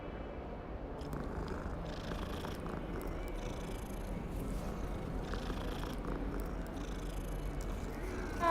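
A cat in the Hogwarts Legacy video game purrs in a steady, continuous low rumble that stays at an even level for the whole stretch, with no talking over it.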